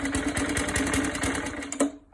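A Suffolk Super Punch 17-inch lawnmower petrol engine runs with a steady, close, rhythmic chugging for about two seconds, then cuts off abruptly.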